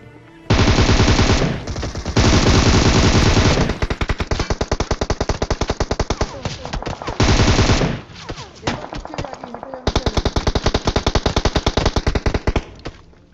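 Rapid automatic gunfire from the PUBG Mobile battle royale game, loud bursts of machine-gun fire in long sustained strings broken by short pauses, with sharp rhythmic shot volleys returning near the end.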